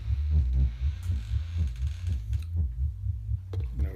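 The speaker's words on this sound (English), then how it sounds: "we bring it down, and we can hear the bass sound" A Moog Mother-32 synthesizer holds a deep, throbbing bass tone that pulses steadily at a moderate rate, close and fairly quiet, with no talk over it.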